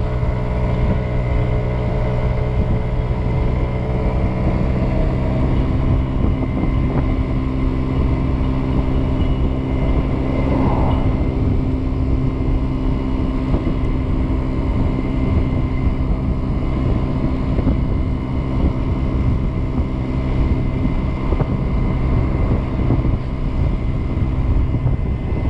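A Kymco Agility 50 scooter fitted with a windscreen, phone holder and trunk rides along with a steady, droning engine hum and constant wind rush, loud and unbroken throughout with no talk.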